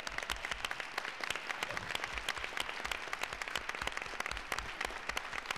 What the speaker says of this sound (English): we can give you a round of applause if you graduated from Central High School